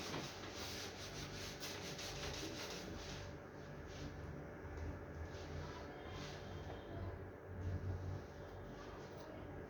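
Writing being wiped off a board during an income tax lecture, a continuous rough rubbing and scrubbing sound that carries on steadily for several seconds, close and moderately quiet, with no talking.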